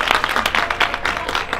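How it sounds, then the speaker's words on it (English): A school audience claps together for a community group, a short burst of dense, fairly close applause with no voices over it. "So if we could all just give Fusion a big clap,"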